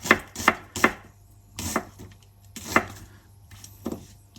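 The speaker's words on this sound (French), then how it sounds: "On les émince." A knife slices small onions on a cutting board with crisp, close thunks, three quick cuts, then scattered strokes in an uneven rhythm with brief pauses between.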